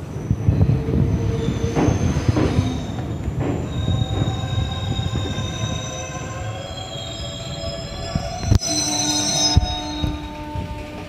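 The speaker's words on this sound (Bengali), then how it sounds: "নির্দিষ্ট সময়ে ট্রেন ছাড়ল।" Passenger train on the Howrah–Adra–Chakradharpur route pulling out of the station, with steady high-pitched wheel squeal on the rails over a continuous rumble and a couple of sharp clanks near the end.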